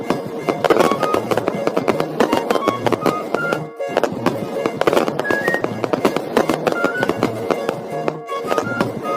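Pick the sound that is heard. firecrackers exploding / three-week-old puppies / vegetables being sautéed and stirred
firecrackers exploding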